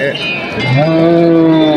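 A loud, close moo from a large bull at a cattle market, a single long low bellow that rises and holds steady to the end.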